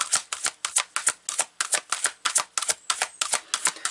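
Tarot cards flipped one after another onto a table in quick succession, a steady run of crisp, close slaps and snaps with no voices.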